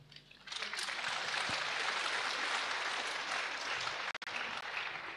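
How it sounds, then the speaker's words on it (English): Congregation at a diaconate ordination Mass applauds, a broad, steady wash of clapping from a large crowd that swells quickly and holds, with a brief dropout near the end. "clap for yourselves"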